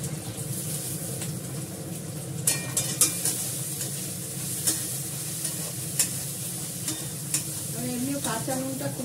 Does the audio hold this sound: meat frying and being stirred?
yes